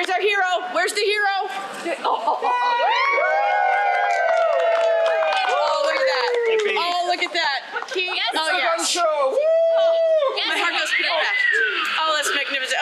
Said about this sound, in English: The hero you will want to cheer and say, yay, it's a hero.